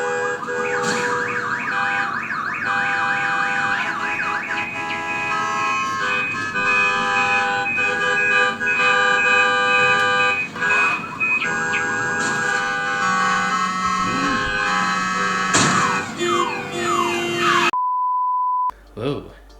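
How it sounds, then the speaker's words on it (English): Busy traffic at a crowded airport in a video game, with a dense, continuous chorus of car horns and electronic beeps layered over one another at high volume, cutting off abruptly near the end. "You can probably barely hear me over all of the car horns."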